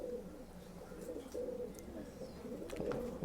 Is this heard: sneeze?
no